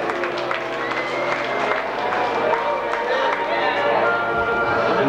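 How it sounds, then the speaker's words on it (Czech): Audience applause fills a hall after scores are announced at a 1995 competition evening, a dense steady clatter of many hands mixed with crowd noise for the whole stretch. "Prosím, potlesk pro všechny."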